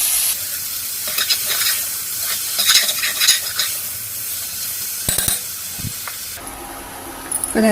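Tomatoes with salt and asafoetida cook in a pan, a steady sizzle and hiss with repeated stirring scrapes and a few sharp clinks near the end, close and fairly loud with no talk.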